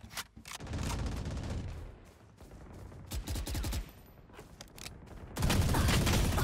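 Rapid automatic gunfire bursts from the Valorant video game, loud and close, firing in several sustained volleys with brief gaps between them.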